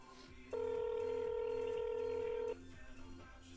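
A phone call is dialed: a single steady telephone tone sounds for about two seconds amid faint low background murmur, then cuts off abruptly.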